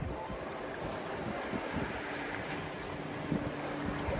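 A sailboat moves through open water on an overnight passage, with a steady broad rush of wind and water and a low buffeting on the microphone, a faint thump near the end, and no talk.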